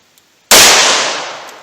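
A single loud gunshot from a .38 Special +P revolver with a 4-inch barrel firing Underwood Xtreme Defender 100 grain ammunition: a sharp close crack after brief silence, then a long ringing decay.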